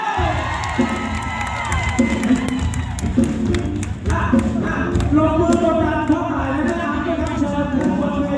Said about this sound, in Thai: ปรบมือเลยครับ